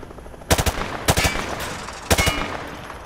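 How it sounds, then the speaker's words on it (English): Gunfire from Call of Duty: Modern Warfare 2 aimed at shooting range targets: three short automatic bursts of several rapid shots each, close and loud, separated by brief pauses with no talking. "He sprayed bullets all over the damn place."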